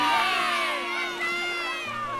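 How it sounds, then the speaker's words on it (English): A crowd of villagers in an animated children's story shouts and cheers together, a loud sustained mass of voices that fills the whole short moment. "And these are the villagers shouting."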